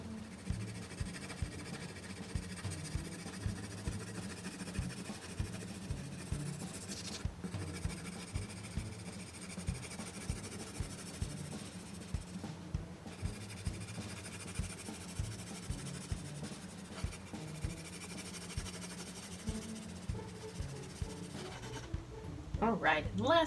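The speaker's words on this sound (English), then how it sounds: "you can do a couple layers of the colored pencil" Colored pencil scratching steadily across paper in a continuous soft rasp of back-and-forth strokes, close and even, with a brief pause or two.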